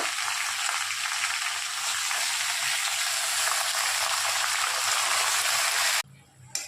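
Malabar spinach stalks frying in a pan as they are stirred, a loud steady sizzle that runs for about six seconds and then drops away abruptly, leaving quiet room sound.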